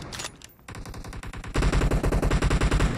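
Rapid automatic gunfire in a mobile video game match, steady rhythmic bursts that grow louder and denser partway through, with no talk over them.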